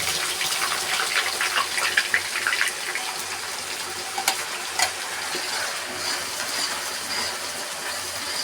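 Chicken pieces with bay leaf sautéing in a pan, a steady broadband sizzle with intermittent scrapes and clinks of stirring, close and continuous with no talking.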